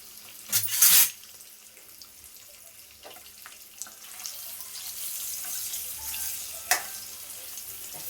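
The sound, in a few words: paneer cubes frying in a pan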